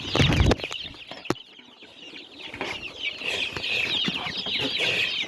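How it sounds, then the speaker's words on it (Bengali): Native chicks cheep and peep continuously in a busy chorus, opening with a loud thump and a sharp knock before the steady chirping carries on alone. "তো দেশি মুরগির বাচ্চা আমাদের এই চ্যানেলে"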